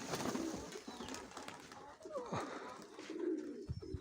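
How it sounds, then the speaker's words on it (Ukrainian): Mykolaiv pigeons coo softly in low, throaty bursts nearby, quiet and intermittent, with light rustling and handling noises between calls. "Голуб, голубочка."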